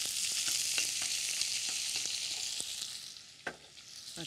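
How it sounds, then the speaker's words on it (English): Onions going into a hot pan for an Indian vegetable dish with mustard seed and urad dal, a bright steady sizzle with a few light stirring clicks, gradually easing toward the end. "And now I'm going to add the onions."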